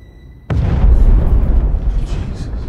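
After a brief quiet moment, a sudden loud explosion bursts out at a hotel, followed by a long rumbling roar that slowly fades.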